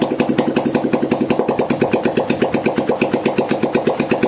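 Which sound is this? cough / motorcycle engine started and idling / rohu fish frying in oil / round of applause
motorcycle engine started and idling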